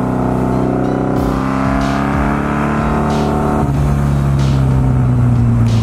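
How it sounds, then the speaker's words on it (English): A V4 motorcycle fitted with drag pipes, loud and close, its engine revving hard in repeated rising and falling bursts with a deep, raspy exhaust roar. "You guys want to see me go full throttle on this thing?"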